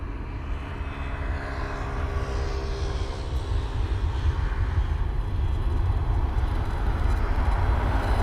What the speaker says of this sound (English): it looks like we've got another aircraft actually on the approach as well